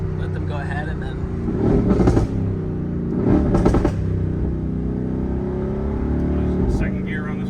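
A Mercedes-AMG GT R pulls hard in second gear, its engine note swelling in repeated surging bursts of revving over a steady drone from inside the car.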